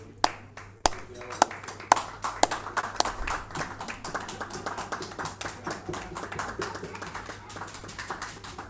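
Scattered hand claps build into a steady round of applause from an audience at a public report presentation, with a few sharp individual claps standing out near the start.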